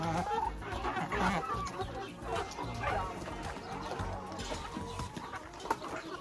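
Naked neck chickens cluck continuously while eating hay in a henhouse, close and busy, with rustling and a dog barking now and then.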